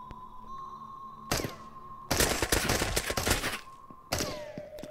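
Gunshots in the video game Into the Radius ring out as a loud single shot and then a rapid burst of fire, followed by another sharp shot against a quiet electronic hum, with no talking.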